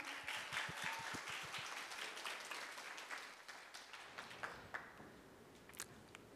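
Applause from a conference audience greeting a presenting team at a future-society scenario competition, steady and full at first, then thinning into scattered individual claps as it fades out.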